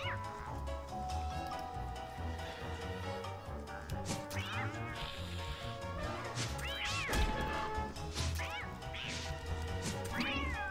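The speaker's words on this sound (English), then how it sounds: "Oh, look, a cat." Repeated cat-creature meows in the video game Don't Starve: Reign of Giants rise over game music, several rising yowls scattered across the stretch, with occasional crashing hits.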